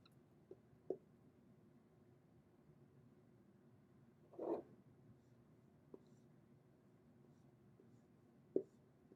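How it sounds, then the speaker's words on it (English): A few isolated marker strokes on a board in a quiet room, each a brief faint scratch or squeak separated by long silent gaps. "I'm going to write some equations on my board"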